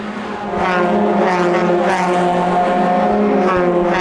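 Volkswagen race cars in a Class B heat of the VW Challenge, a train of several engines roaring past close by, loud and sustained, with rising and falling engine pitch.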